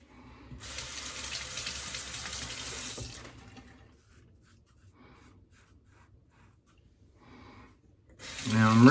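Tap water runs steadily into a sink for about three seconds while rinsing a razor during a wet shave, then stops, leaving quiet room sound before the running water returns near the end.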